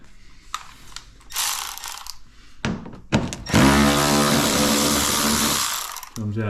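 A ratchet spins off 10 mm bolts while fog lights are swapped on a 2023 Toyota Tacoma TRD Off-Road, giving loud, close bursts of fast ratcheting clicks separated by short pauses, with one long continuous run of clicking.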